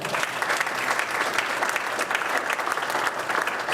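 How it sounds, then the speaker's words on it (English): Audience applause fills the room in a steady, dense wash of many hands clapping, sustained and fairly loud from start to finish with no voices above it. "Give another round of applause."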